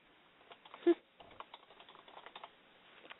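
Soft, rapid clicking of keys on a computer keyboard, fairly faint and steady, with a brief louder bump near the start.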